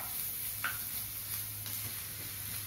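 Chopped onions sautéing in hot oil with cinnamon and cloves in a pan for dhaba-style egg keema masala, giving a faint, steady sizzle with one or two soft stirring clicks and no talking.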